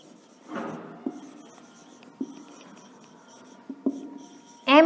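A teacher writes on a classroom board in short scratchy strokes, several distinct scrapes and taps spread out across a quiet room.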